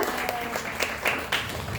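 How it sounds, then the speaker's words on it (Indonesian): Brief applause from a classroom of students for a student group's presentation, a short burst of clapping with a few sharper claps standing out, fairly close and steady over under two seconds. "Beri tepuk tangan buat kelompoknya Mbak Kinara."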